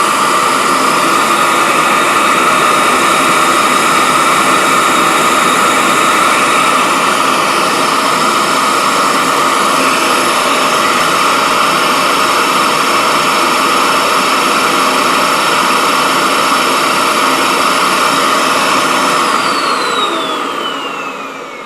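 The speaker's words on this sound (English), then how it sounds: "Turn on your vacuum." Loud, steady whine of a vacuum pump running continuously, a harsh jet-like roar with a high tonal hum that starts to wind down at the end.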